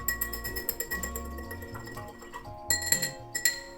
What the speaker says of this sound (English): I'm going to take my spoon and I'm going to mix it up